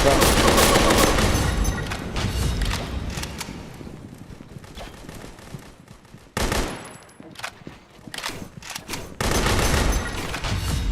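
Rapid bursts of gunfire from an automatic weapon in the Pixel Gun 3D shooter game, loud and dense, stopping and restarting several times.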